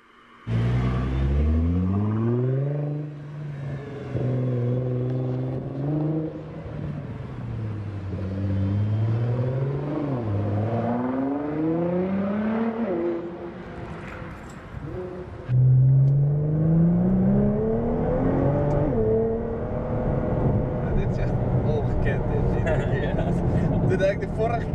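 A 600 hp Nissan GT-R running on low boost pulls hard through repeated rising gear sweeps, its engine note climbing and dropping at each shift, with occupants talking over the drone.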